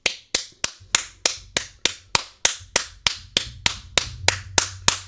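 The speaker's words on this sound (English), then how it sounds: "to give you all a round of applause." Hands clapping in a slow, even rhythm of about fifteen sharp, close claps, each one distinct and alone with no voices.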